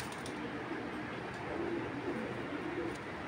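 Racing pigeons kept for sale coo softly in a few low, rolling calls over a steady background hiss.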